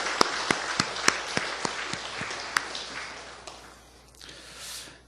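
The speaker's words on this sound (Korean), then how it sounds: "우리 격려의 박수를 한번 보내겠습니다" A church congregation at a Sunday evening service gives a burst of applause for a scholarship committee: sharp, scattered claps at first, thinning out and fading within a few seconds.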